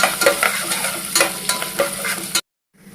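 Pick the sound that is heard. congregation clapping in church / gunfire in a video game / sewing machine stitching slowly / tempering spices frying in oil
tempering spices frying in oil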